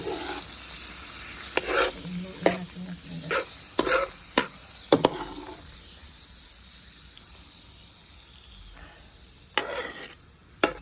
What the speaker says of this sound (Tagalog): Tapos yan, halu-haluin natin.